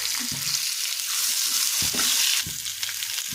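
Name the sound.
capsicum frying with green chillies and onion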